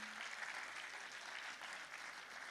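Festival audience at an evening final of a singing contest applauds steadily, a dense wash of clapping that stays even and moderately distant for a couple of seconds.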